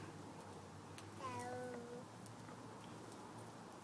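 A cat meows once inside a house, a short drawn-out call heard faintly over a quiet room hum.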